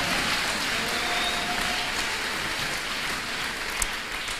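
A church congregation breaks into sustained applause during a French-language sermon, a dense, even clapping that fills the room and holds steady throughout, with no voice rising above it.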